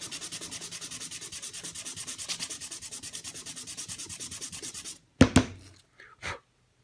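Close, steady back-and-forth rasp of 220 grit sandpaper rubbing a small wooden fidget spinner button, a fast even rhythm that stops, followed by a few brief handling knocks.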